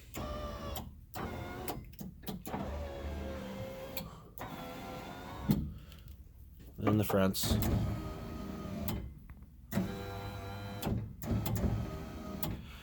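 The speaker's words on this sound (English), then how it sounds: "So, I have power windows are all done. I'm going to turn them on so you can see them." Power windows on a 1954 Chevrolet Bel Air run up and down in several whirring motor bursts with thumps as the glass stops, close and fairly quiet, with someone speaking briefly between them.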